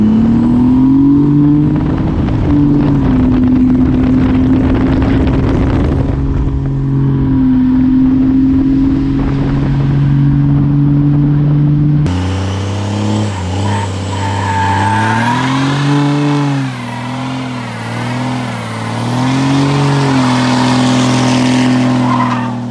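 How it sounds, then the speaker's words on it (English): An old truck with a Cummins engine driving, a loud close drone with a steady low engine tone, then shifting into rising and falling revs as it accelerates, no talk. "Quick little rip in the old Cummins."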